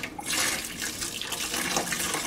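Hot water from cracking glassware pours into a pot held underneath, a close, continuous splashing trickle that keeps going for the short stretch with no talk over it.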